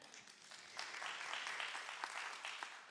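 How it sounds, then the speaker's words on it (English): An audience at a talk celebrating Africa claps for the musicians, a moderately distant, steady round of applause from a sizable crowd. "our amusing musicians, one more clap for them"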